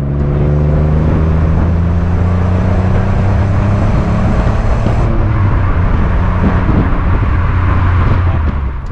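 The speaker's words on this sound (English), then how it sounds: "It's really fun to stab the accelerator on this car." An Alfa Romeo 156 GTA with its Busso V6 accelerates hard, a loud, steady engine roar with rising harmonics building over several seconds, then a shift to rougher, broadband drive noise close up, with no talking.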